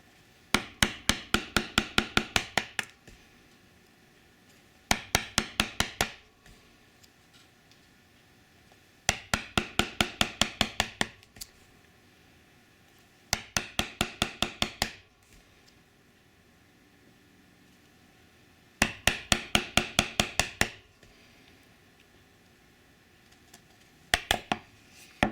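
A mallet drives a chisel into pine wood during hand-tool work on a candle box: short bursts of quick, sharp, evenly spaced taps, repeated in groups with quiet pauses between them.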